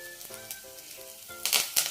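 Tender curry leaves with their stems dropped into hot oil with garlic, a steady close sizzle that bursts into a louder crackling spatter as they hit the pan.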